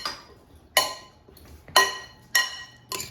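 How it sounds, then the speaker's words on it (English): Potato pieces tossed with oil and seasonings in a bowl for air-fried skin-on potatoes, giving four sharp clinking knocks spaced about a second apart, close and fairly quiet, with no talk. "And now toss it so they're coated with oil and seasonings."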